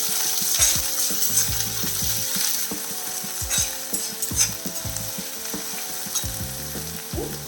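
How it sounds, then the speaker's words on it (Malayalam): Onions fry in oil for a broad bean stir-fry, a close, steady sizzle with a spatula repeatedly scraping and clacking against the pan as they are stirred. "ഓക്കെ, നമ്മളിനി സവാള കൊടുക്കുന്നു."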